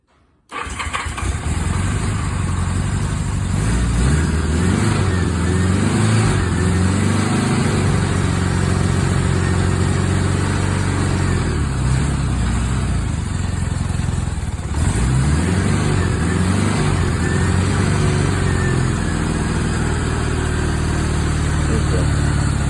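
A 1976 Honda GL1000 LTD motorcycle engine cranks and catches almost immediately on choke, then settles into a loud steady idle with smooth throbbing pulses and slight rises in revs, close up and running continuously.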